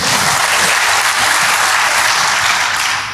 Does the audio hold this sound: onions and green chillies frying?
no